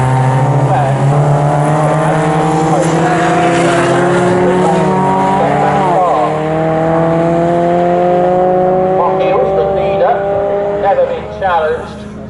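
MG Metro Cup race cars lapping Snetterton, several engines droning at high revs with steady and rising tones, loud and continuous under a commentator's running voice.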